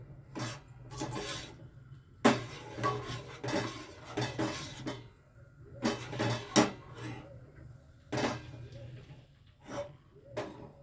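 A spoon stirs hair oil ingredients in a pan on a gas stove, producing repeated irregular clinks and scrapes of metal on metal at close range, with short pauses between bursts and faint breathing or voice sounds.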